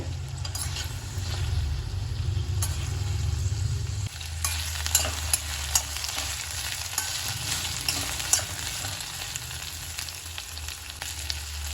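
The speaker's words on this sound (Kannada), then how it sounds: "ಒಂದು 3-4 ನಿಮಿಷದಷ್ಟು ಸ್ವಲ್ಪ ಅದೆಲ್ಲ ಸಾಫ್ಟ್ ಆಗಬೇಕು, ಅಲ್ಲಿವರೆಗೆ ಹುರ್ಕೋತೀನಿ ನಾನು." Green chillies and ridge gourd frying in a pan for chutney, with a steady close sizzle, a stirring change partway through, and a few sharp spatula scrapes and pops.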